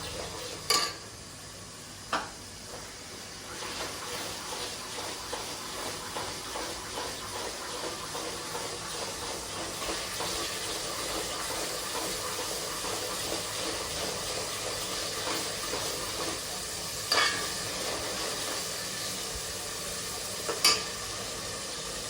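Masala for a crab curry sizzles and fries in a pan, with a steady crackle and repeated scraping stirs of a spoon, plus a few sharp clinks against the pan.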